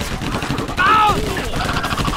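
Bursts of gunfire in the video game Battle: Los Angeles, a loud close volley with sharp shots and zipping effects amid battle noise, with voices shouting nearby.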